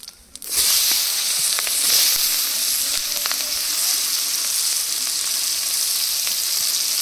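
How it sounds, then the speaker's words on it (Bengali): Loud, continuous sizzle and crackle of onions frying in a pan, starting abruptly and holding steady with faint stirring ticks. "পেঁয়াজগুলো লাল লাল করে ভেজে নেব।"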